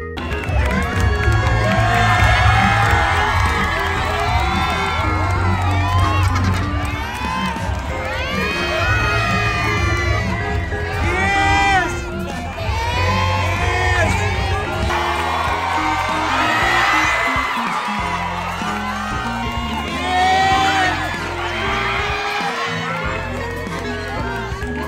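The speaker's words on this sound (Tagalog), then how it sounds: "ipinagsigawan ng mga taong naroroon kung saan halos lahat ay sumisigaw at nagre-request sa Kimpaw ng kiss" A dense crowd at a Kimpau fan event cheers, screams and shouts continuously, with high-pitched squeals and whoops rising and falling in waves throughout.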